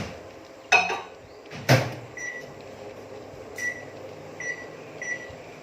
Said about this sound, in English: then I microwave it for 2 minutes